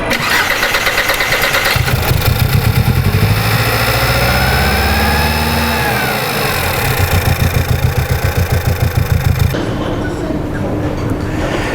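A 2009 VW CC engine, with a P0016 camshaft correlation fault, cranks and starts, then settles into a steady, loud, close idle with a rhythmic low pulse. It runs alone, with no talk.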